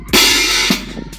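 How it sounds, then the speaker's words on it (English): A cymbal crash hit hard and then choked, a bright loud wash that cuts off after about half a second, followed by a quieter tap, close and alone. "Crash choke."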